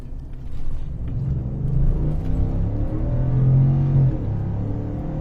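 A car engine rumbles and rises in pitch as the vehicle accelerates back up to speed on a highway, steady and close.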